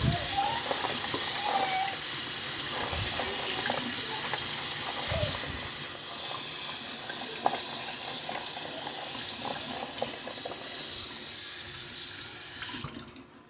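Tap water runs steadily into a kitchen sink while cranberries are rinsed, giving a continuous close splashing hiss with small clinks, ending abruptly.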